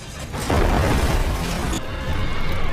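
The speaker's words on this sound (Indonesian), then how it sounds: "Dan saat si fotografer itu naik ke mobilnya, tiba-tiba mobilnya meledak." A car blows up in a crime action film as the driver gets in, a loud, broad blast that rolls on into sustained crashing debris and roaring noise for a couple of seconds, with no talking.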